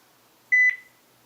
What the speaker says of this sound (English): This first one is called Low Beep Once.